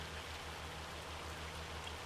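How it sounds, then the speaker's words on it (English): Hail falling during bad weather in Farming Simulator 25, a dense, steady hiss of pattering impacts that runs unbroken throughout, with a low rhythmic hum beneath and no voices. "I'm sure it's hail and not rain."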